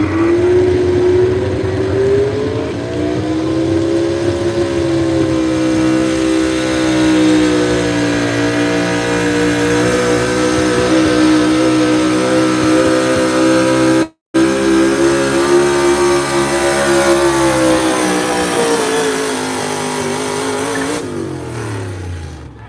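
Stock cars race around a track at the Southern Showdown in Miller's Tavern, Virginia, including a Chevrolet. A loud, continuous engine roar rises and falls in pitch as the cars go by, with a brief cut near the middle.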